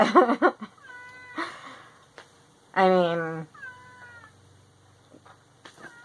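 Several distinct cat meows, a strained harmonic yowl in the middle and shorter cries before and after, heard close up with a person speaking at the start and some brief rustles in between.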